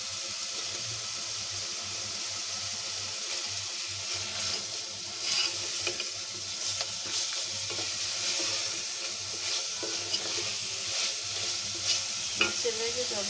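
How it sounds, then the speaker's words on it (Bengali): Beef that was steamed beforehand is stirred into a spice paste sizzling in oil in a pan, a steady close frying hiss with scraping stir strokes and a brief tap-water sound, no talk. "এখন আমি এই যে ভাপ দিয়ে রাখা মাংসটা দিয়ে দিই।"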